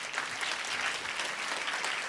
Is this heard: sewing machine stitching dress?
no